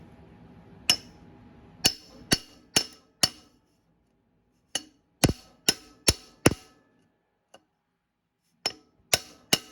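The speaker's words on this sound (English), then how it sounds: "tap the back end here with a hammer" A hammer taps a metal water pump seal into place on a Polaris Sportsman 500 ATV in sharp, ringing strikes, grouped in short bursts of three or four with pauses between them.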